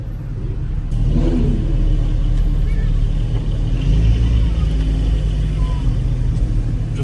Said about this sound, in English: let's see the reaction here as the Ford GT tries to climb the ramp